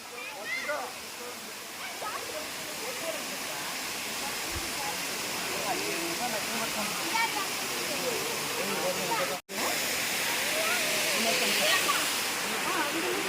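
Waterfall at Srisailam's Siddaramappa Kolanu, with water pouring down from above: a steady, loud, broadband rush that continues without a break apart from one brief dropout, with voices faintly mixed in.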